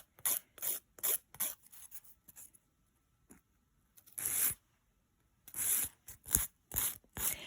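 A nail file is drawn across builder gel nails sculpted on paper forms, making short, crisp rasping strokes in quick bursts separated by pauses, close and fairly loud.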